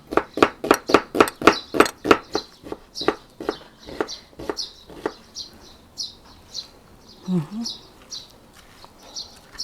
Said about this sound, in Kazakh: Енді пиязын сақтап тураймыз.